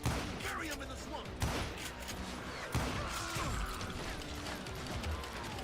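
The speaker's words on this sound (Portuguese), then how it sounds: "Da hora que tem um monte de tiro que não pega." Gunfire in the Western shooter Call of Juarez Gunslinger, several sharp shots at uneven intervals over dense game sound and music, with a voice faintly present underneath.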